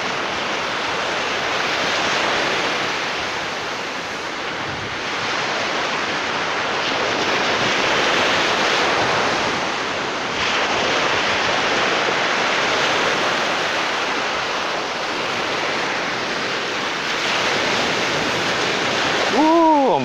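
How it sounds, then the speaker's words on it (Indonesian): Large ocean waves surge along the coast of Nusakambangan island in Central Java, a steady loud roar of surf with swelling crashes and some wind buffeting the microphone, with no talking. "ombaknya besar"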